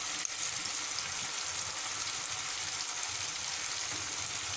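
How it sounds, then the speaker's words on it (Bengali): Garlic, ginger and cumin paste masala frying in a pan, a continuous soft sizzle with a faint rhythmic stirring scrape underneath. "দেখুন মশলাটাকে ভালোভাবে কষিয়ে নিচ্ছি।"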